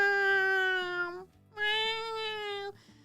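A voice imitating a cat meowing, two drawn-out, clear meows separated by a short pause, close and fairly quiet.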